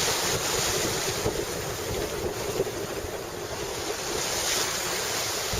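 Ocean waves and strong wind surge around a sailboat at sea on the approach to the Faroe Islands, a continuous roaring rush with heavy wind buffeting the microphone, loud and unbroken.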